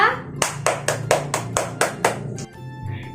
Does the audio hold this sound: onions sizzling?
no